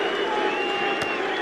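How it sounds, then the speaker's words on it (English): A cricket ground crowd applauds sarcastically in a steady, dense patter of many hands from the England supporters, with a broadcast commentator's voice faintly mixed in throughout. "Sarcastic applause, you'd say, from England."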